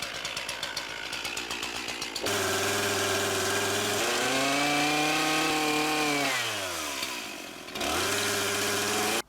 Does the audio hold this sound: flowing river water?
no